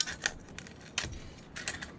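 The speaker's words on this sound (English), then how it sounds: "I'm trying to keep the scissors right on the groove there" Scissors cut through a thin aluminum drink can along a scored groove while a camp stove is being made. Close, crunchy metallic snips and scrapes come in uneven bursts with no talking.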